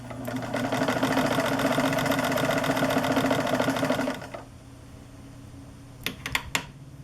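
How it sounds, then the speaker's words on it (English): A manual mechanical sewing machine stitching a zigzag runs with a fast, even, rattling hum for about four seconds, then stops, followed by a few sharp clicks from its controls. "now I run the machine."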